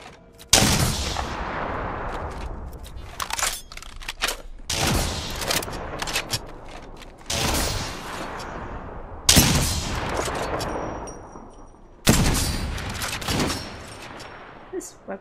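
Charged weapon gunfire in the video game Apex Legends, five loud, heavy shots spaced a few seconds apart, each bursting sharply and then fading into a long tail, with some voice mixed in.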